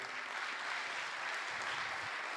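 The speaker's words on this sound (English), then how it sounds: "Clap for them." An audience at a graduation ceremony claps for the trainers, giving dense, steady applause that continues throughout without a break.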